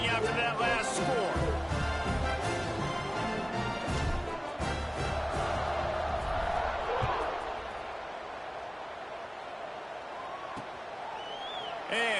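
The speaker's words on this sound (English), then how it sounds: "this crowd is buzzing after that last score" A football stadium crowd at an Oklahoma State game keeps up a loud, steady roar after a score. A commentator talks over it, and the din eases slightly toward the end.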